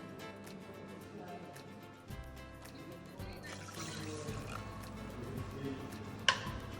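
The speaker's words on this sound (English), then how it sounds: "Pour 2 cups of water." Water pours from about two cups into a pot holding brown and white rice, a steady trickling stream with a louder splash near the end.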